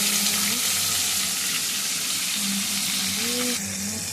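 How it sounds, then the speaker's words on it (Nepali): Tomatoes hitting hot oil with whole spices and cumin in a home kitchen pan, a steady soft sizzle and crackle lasting throughout with faint clinks of stirring. "अहिले यहाँ टमाटर पर्छ हालेर हल्का पकाउँदैछु।"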